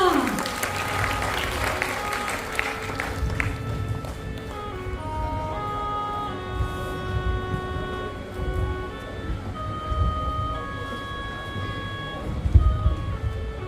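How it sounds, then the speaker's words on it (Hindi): Applause at a dramatized assembly of the Sakya sangha convened to weigh a declaration of war: a dense burst of clapping at the start, fading under sustained musical tones that carry on throughout. "जोरदार तालियां, जोरदार तालियां।"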